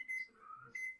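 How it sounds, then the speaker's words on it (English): Kitchen timer going off during cooking, a thin high electronic beep repeated twice with a pause between, faint and alone. "The timer's gone off."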